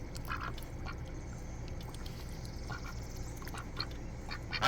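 Ducks kept with geese and ducklings at a bird birthday gathering quack in scattered short bursts at moderate distance, over a steady low background rumble, with no talking.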